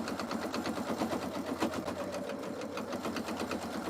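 A home sewing machine stitches a seam through fabric, a steady close mechanical whir with rapid needle rhythm running continuously at a slightly reduced speed.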